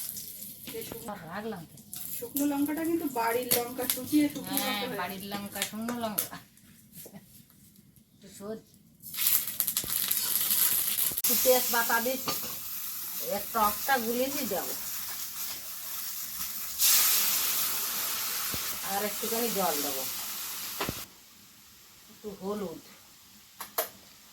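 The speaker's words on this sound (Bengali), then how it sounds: "মাছটা ভেজে নিই" Fish frying in a little oil, with stretches of broad hissing sizzle that rise and fall beneath almost constant nearby conversation.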